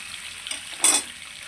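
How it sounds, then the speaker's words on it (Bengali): Onion, or a similar ingredient, frying slowly and lightly in a pan in a home kitchen. A low sizzle runs throughout, with one short, louder burst of sizzling and stirring just after the middle. Nobody speaks. "হালকা ধীরে ধীরে ভাজি করতে হয়"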